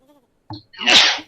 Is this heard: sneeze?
yes